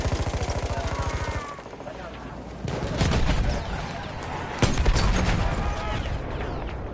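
Rapid, evenly spaced machine gun fire opens a video game firefight, followed by heavier blasts and continuous rough battle noise, loud and close, with voices faintly mixed in.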